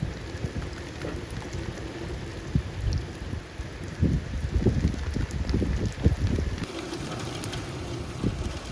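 Heavy rain pours down in the dark early morning during a huge storm, with wind blowing through it: a dense, steady roar of downpour and gusts that swells louder midway, close and continuous, with no voices.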